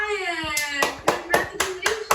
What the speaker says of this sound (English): Can we give a huge round of applause to